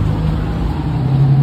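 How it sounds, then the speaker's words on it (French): A luxury car in the streets of Andorra la Vella gives a loud, close, steady engine rumble with road noise as it approaches, sustained through the brief moment with no talking. "regardez la voiture qui va arriver, je suis sûr que c'est une voiture de luxe"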